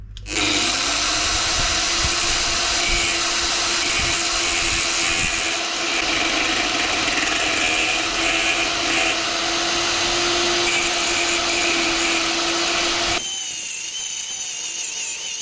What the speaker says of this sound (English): I'm just gonna trim off just a little bit, not very much at all.